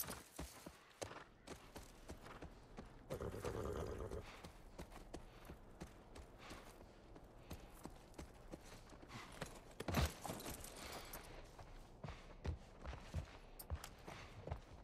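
Horse hooves clip-clop at a walk in the video game The Last of Us, a steady rhythmic plodding that carries through the whole stretch with a louder burst of noise partway through and no talk.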